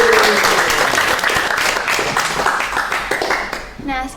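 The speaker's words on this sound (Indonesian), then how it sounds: "Tepuk tangan dulu, Nak." Audience applause from animation department students at the close of a vocational high school podcast, dense clapping filling the room for about four seconds before tapering, with a voice speaking briefly at the end.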